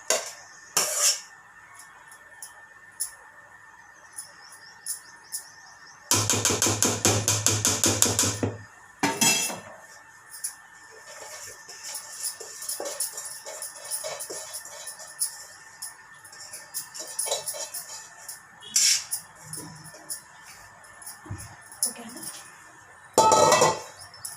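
Rice is tipped into a pot with ghee for a chicken dish and stirred with a metal spoon. Scattered clinks and scrapes of utensil on pot surround a dense rattling pour burst and a few sharper knocks.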